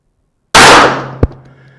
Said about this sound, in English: Here's 5 shots with the Caldwell on the middle target.